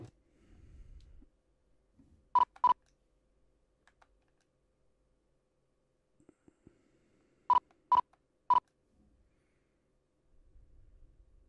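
Telephone keypad tones in The X-Files video game: a pair of short beeps, a pause, then three more quick beeps, clear and isolated against near silence.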